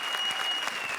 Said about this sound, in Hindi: अब तुम लोग ताली वाली बजाओ यार।